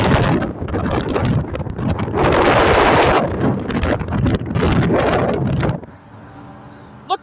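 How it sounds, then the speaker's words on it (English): Strong wind buffets the microphone in loud, continuous broadband gusts on a site where an excavator was torn down, steady for several seconds before dropping away abruptly near the end. "Look at all this wind right now."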